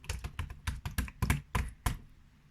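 Jelly slime gives off a run of sharp, close clicks and pops in quick irregular bursts that slow toward the end, with no voices.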